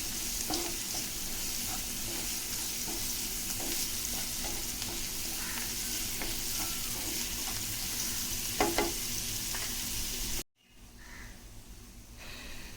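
Egg fried rice with salt sizzling and frying in a pan for restaurant-style cooking, a steady close hiss with stirring scrapes throughout, cutting off abruptly near the end before a quieter sizzle resumes.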